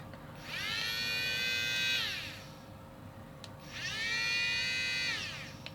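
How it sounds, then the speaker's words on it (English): An ARROWMAX cordless rotary engraving tool with a diamond bit grinding in two separate high-pitched whining bursts, each about one and a half seconds long with a short quiet gap between, fairly faint and with no talking. "this is a far more efficient grinder, at least with the diamond bit"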